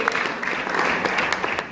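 A church congregation applauds during a morning worship service, a dense, sustained clapping roar with no pauses.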